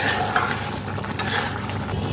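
A spoon stirs spices and water together in a pan for an egg and potato curry, giving steady scraping and soft sloshing with a faint sizzle throughout, close and continuous.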